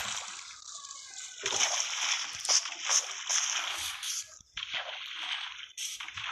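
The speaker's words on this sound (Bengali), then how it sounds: "আরে ভাই ঘোড়া দোনোটাই পানিতে পড়ে গেছে।" Horses splashing into water in the video game Minecraft, a run of soft splashes and sloshing at moderate level, with no talk.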